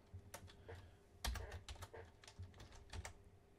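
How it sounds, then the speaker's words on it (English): Fingers tapping on a computer keyboard while working in 3D effects software, a close series of irregular clicks and clacks with a few firmer keystrokes, no talking. "So, we type in"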